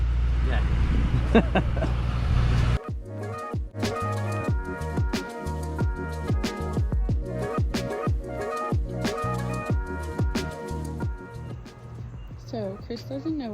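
Mustang engine idling and revving with harmonic intake rumble through the air intake, loud and close, with brief speech over it and a rougher roar in the opening seconds.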